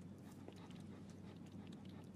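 Dog panting with quick, steady breathy pulses, close and fairly quiet over a constant low hum, no talking.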